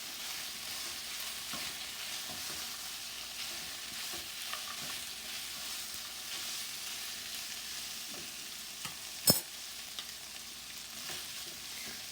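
Chilli chicken with cashew nuts and vegetables is stir-fried in a pan, giving a steady soft sizzle with scattered scraping and stirring clicks and one sharper clatter near the end, and no voices.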